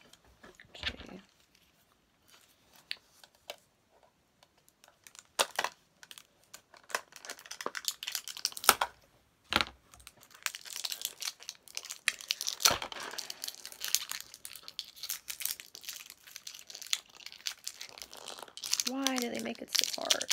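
Plastic packaging crinkles and crackles as someone struggles to tear it open, in scattered bursts of rustling, close up, with occasional talking.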